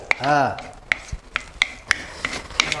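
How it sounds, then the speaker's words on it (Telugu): A spoon stirs cashews frying in ghee in a pan, quick scraping and rubbing strokes with sharp clinks against the metal over a soft sizzle, close and rhythmic. "ఇట్లా మనము దాన్ని అటు ఇటు అనాలి జీడిపప్పుకు నెయ్యి రుచి తలిగేటట్టు చేయాలి"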